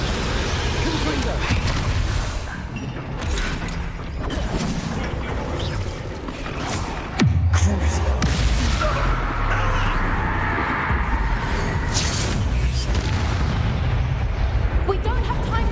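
Fiery spell blasts in the wizarding game Hogwarts Legacy, a heavy boom with rumbling impacts that surges loud near the middle and sustains a dense, noisy roar afterward, with speech over the combat.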